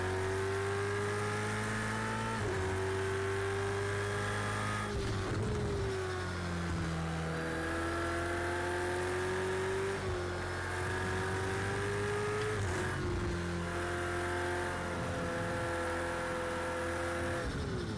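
A race car engine under throttle in Project Cars 2 drones and revs steadily, with pitch climbing through gears and dropping at shifts, loud and continuous throughout with a faint tire squeal.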